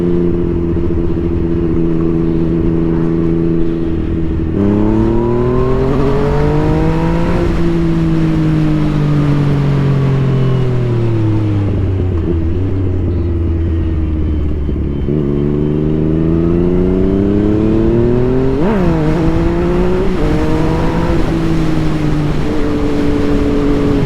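A Yamaha MT-09 motorcycle engine revs up and pulls through several gear changes while riding, loud and close with repeated rising pitch sweeps and brief drops between shifts.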